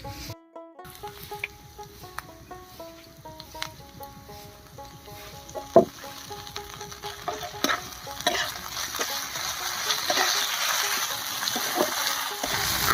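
Ginger and green chili paste frying with onions browned red for an egg masala curry, stirred and sizzling steadily, growing louder and denser toward the end, with faint music underneath.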